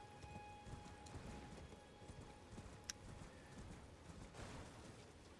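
Hooves of a heavily laden pack animal plod steadily in the Elden Ring video game, a faint, continuous clip-clop with a soft, rain-like patter behind it and no talking.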